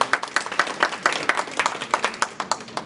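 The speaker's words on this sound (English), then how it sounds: "Give yourselves a round of applause one more time" A small audience at an organization's 30th anniversary gathering claps in a loose, rhythmic pattern of distinct close claps at moderate loudness, with no cheering.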